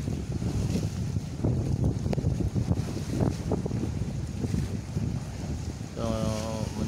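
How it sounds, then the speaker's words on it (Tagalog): Rough night sea with heavy waves rolls in a continuous rushing roar, wind gusting across the microphone throughout, and a brief faint voice near the end. "Lakas-lakas yung alon no."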